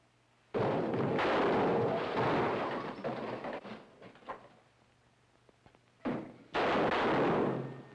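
Gunshots ring out as loud, booming blasts: one long reverberating burst with trailing echoes, then a quieter stretch, and two more sharp shots close together near the end.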